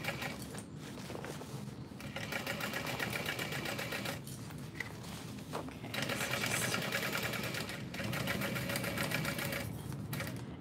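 A sewing machine runs in steady bursts, stitching a backpack seam with a square ring nearby, a close mechanical whir with brief pauses between runs of stitches.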